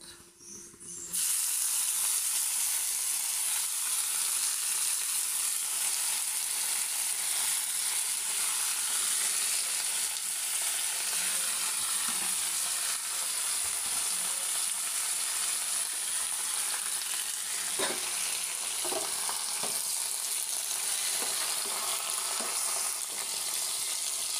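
Gongura leaves fry in a hot pan with a steady, close sizzle that stays loud and even throughout, broken by occasional scrapes and knocks from stirring, with no talking.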